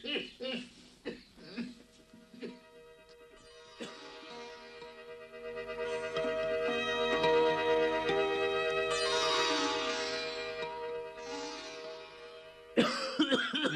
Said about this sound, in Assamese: আৰু সি নিজেও কাহিছে